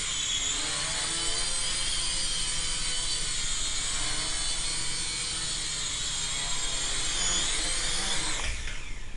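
A Syma X5SW quadcopter drone flies nearby with a loud, steady, high-pitched rotor whine. The whine holds almost constant, then sweeps sharply in pitch at the very end.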